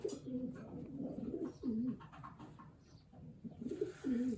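Pigeons coo inside a loft, soft rolling calls repeating in irregular phrases that sound close but quiet.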